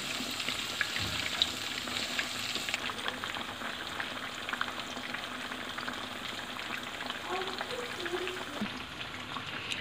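Fish frying in hot oil for fried Lahori fish, a soft, continuous bubbling sizzle with faint pops, steady and fairly quiet throughout.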